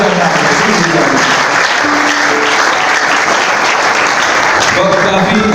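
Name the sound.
church congregation applauding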